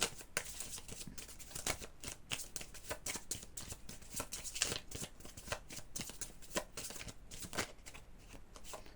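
Oracle cards shuffled by hand and then drawn, a quick run of crisp, rhythmic riffling flicks, soft and close, continuing steadily with no voice.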